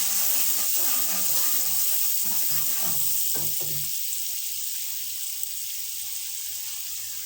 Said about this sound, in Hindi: तो अब आप इस मसाले को करेंगे अच्छे से फ्राई